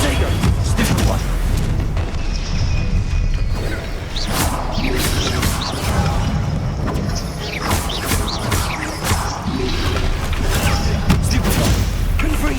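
Repeated Confringo fire-spell blasts in Hogwarts Legacy: a dense, continuous barrage of booming explosions and crashes with whooshes, loud and close throughout, with a voice talking over them.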